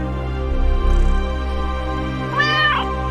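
A cat meows once, a short clear mew standing out over a steady background music drone, with a softer earlier vocal murmur.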